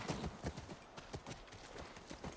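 Horse hooves clip-clopping in The Last of Us Remastered video game, a steady run of hoofbeats at a walking rhythm over soft background ambience.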